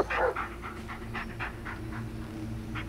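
A dog pants rapidly in the Blair Witch video game, a run of short breathy bursts close by over a steady low ambient drone, with no talking.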